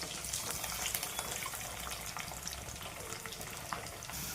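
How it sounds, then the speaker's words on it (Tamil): Garlic sautés in a pan with a soft, continuous low sizzle and faint crackles, fairly quiet and steady throughout, with no talking. "பூண்டு நல்லா வதங்கட்டுங்க."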